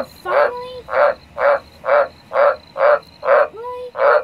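A big frog croaks from inside a downpipe, giving nine evenly spaced, loud resonant croaks about half a second apart with a hollow echoing tone, alone without talk.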